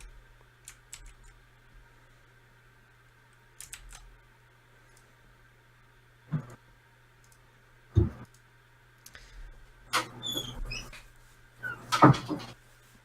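Cupboard or room doors banging open and shut in a quiet indoor space, several separate knocks and thumps spread across the stretch with small clicks between, over a low steady hum.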